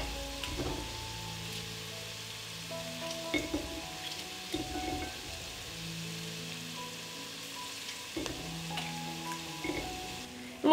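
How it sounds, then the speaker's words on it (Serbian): Garlic fries quietly in a pan with a soft, even sizzle, and repeated sharp clicks and knocks of a utensil break through it. "Dodajem beli luk i pržim dok ne omekša."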